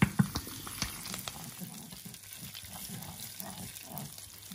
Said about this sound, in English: We're now gonna add some sriracha.